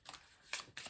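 Lenormand cards being shuffled, with two quick papery riffling bursts separated by a short pause, close up and without speech.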